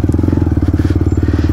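Off-road motorcycles, a BMW 310 GS and a Hero XPulse 200, run on a dirt trail with a loud, rhythmic, throbbing engine pulse and some clattering.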